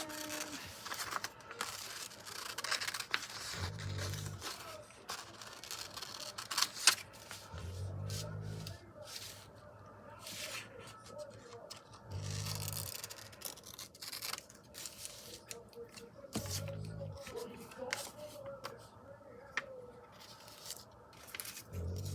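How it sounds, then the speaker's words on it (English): Scissors cutting around a pumpkin in a magazine picture, with quiet intermittent snips and paper rustling at close range, faint and spread out over about twenty seconds with no voices. "Maybe if I cut around the pumpkin."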